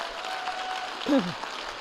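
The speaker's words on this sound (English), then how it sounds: "give yourself another round of applause" Brief audience applause at a school board meeting at Chestnut Ridge Middle School, a soft steady patter of clapping through the room with a voice briefly rising over it.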